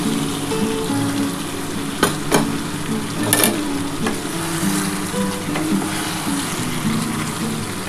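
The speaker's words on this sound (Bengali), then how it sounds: "আমি এর মধ্যে আলুটা দিয়ে এবার কষাবো" Potato pieces sautéed in mutton masala for a mutton dak bungalow curry, a loud continuous sizzle near at hand with sharp clanks and scrapes of a spatula against the pot.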